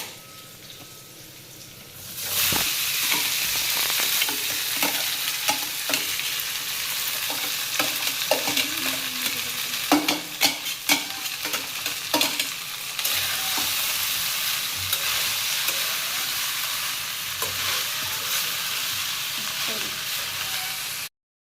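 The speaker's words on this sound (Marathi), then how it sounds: "त्या गुलाबजामुनसाठी मी रवा भाजून घेत आहे" Semolina dry-roasting in a pan for gulab jamun, stirred steadily with a spoon, giving a continuous close scraping and rustling with scattered sharper knocks against the pan, loud and without talk.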